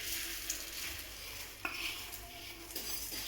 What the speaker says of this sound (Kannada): ಅದೇ ಬಿಸಿ ತುಪ್ಪ, ಸ್ವಲ್ಪ ತುಪ್ಪ ಸೇರಿಸಿ ಶಾವಿಗೆನ ಹುರ್ಕೊಳ್ಳೋಣ.